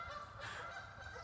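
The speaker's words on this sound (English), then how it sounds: "you hear the geese?" Geese honk faintly in the distance, a short burst of overlapping calls heard alone.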